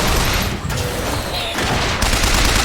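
Loud, continuous gunfire aimed at robot enemies in the video game Bioshock Infinite, a thick barrage of shots and booming impacts with brief surges, close and dominant, no talk.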